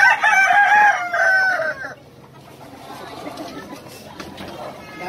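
A rooster crows loudly nearby, followed by quieter clucking of chickens, with people talking in the background.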